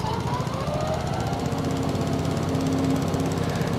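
A cart mower in the Farming Simulator 22 video game drones continuously with a dense, rattling engine roar, loud and steady throughout with no pauses.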